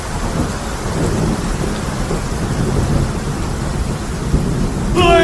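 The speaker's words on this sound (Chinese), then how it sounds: "哎呀，真的下雨了！" Heavy rain pours steadily with a deep rolling thunder rumble underneath. A loud, dense wash of sound continues throughout, with a brief high tonal sound at the very end.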